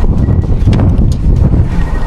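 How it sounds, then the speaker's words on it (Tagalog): Strong wind on a hilltop buffets the microphone in a steady, loud rumble, with gusty roaring surges throughout. "lakas ng hangin lalo dito sa taas"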